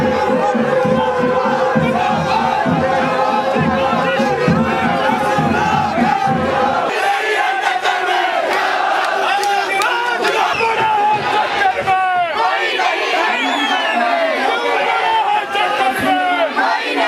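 A large crowd of political supporters at an outdoor rally for Jairam Thakur roars and chants loudly and continuously, with dense overlapping voices and shouted cries that swell and carry on without a break.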